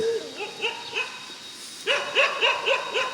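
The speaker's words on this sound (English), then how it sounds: "I have a dog accompanying me." A dog on a hill hiking trail at Nai Yang gives a run of sharp, fairly close barks: a few spaced yaps early on, then a quicker burst of about six barks after a short pause.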